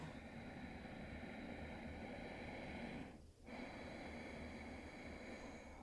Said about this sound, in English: it's kind of making a sound with the back of the throat, not the nose.